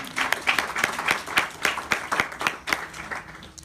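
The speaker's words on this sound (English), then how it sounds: "Give him a round of applause." A modest group at a congressional forum applauds, with individual sharp claps standing out in a fairly regular rhythm, moderately loud and slightly distant.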